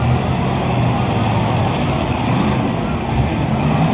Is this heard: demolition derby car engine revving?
yes